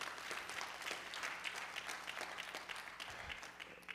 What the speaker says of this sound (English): Give Dad another hand clap.